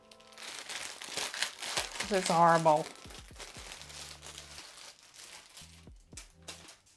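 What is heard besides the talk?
plastic crinkling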